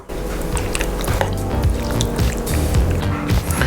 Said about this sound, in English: 1 large tablespoon of black treacle.